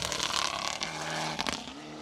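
Evo 10 rally car on a four-wheel-drive gravel rally stage, engine note rising and falling through quick gear changes, moderately distant and steady, with no one speaking over it.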